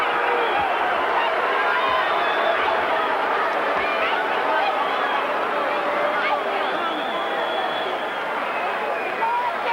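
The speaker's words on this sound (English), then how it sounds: "There's a lot of cheering, as I said" Arena crowd cheering and roaring after the decision in a professional boxing match between Thomas Hearns and James Kinchen, a loud, sustained wall of voices and whistles with no break.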